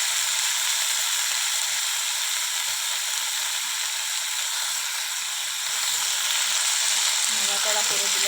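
Cut vegetables fry and get stirred in a pan of oil on a home stove, giving a loud continuous sizzle with a scraping stir near the end.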